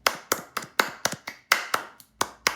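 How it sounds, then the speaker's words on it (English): Polite applause from a small group of podcast hosts, a few sharp, sparse hand claps in an uneven rhythm, close and dry with brief silences between. "Polite applause."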